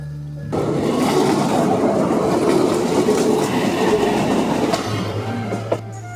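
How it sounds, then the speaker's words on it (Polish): A train in Tokyo, Japan rumbles past close by, a steady loud roar of wheels on rails lasting several seconds before easing off. "czekamy, zaraz będzie jechał pociąg"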